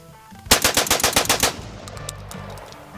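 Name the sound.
rapid burst fire from DCX-1 shotgun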